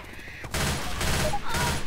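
Rapid bursts of automatic gunfire from the zombie shooter game Left 4 Dead 2 rattle loudly after a brief quieter start, with crackling shots continuing in close succession.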